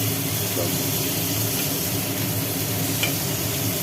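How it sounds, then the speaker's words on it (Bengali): Onion, tomato and drumstick pieces fry in a pan, a continuous close sizzling hiss with faint stirring, steady and unbroken, with a low background hum. "এবার পেঁয়াজ টমেটো আর সজনে ডাঁটা এই নাচনি ডাঁটা একটু ভাজি ভাজি হচ্ছে"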